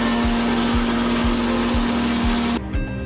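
A household mixer grinder (mixie) grinds ingredients for mutton pulao, a loud, steady motor whine with a faint regular thump, cutting off abruptly just before the end.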